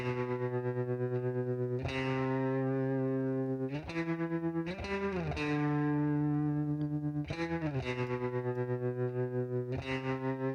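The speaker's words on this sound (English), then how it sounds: "Reverb, some vibrato right here." Sustained electric guitar chords drenched in reverb with a wavering vibrato, changing chords every couple of seconds, loud and alone.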